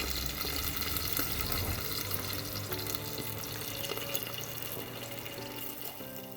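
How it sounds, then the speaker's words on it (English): Pork fries in a skillet, a dense steady sizzle with scattered pops and crackles heard up close and fairly loud, with no voices present. "You can hear the pork popping in the skillet."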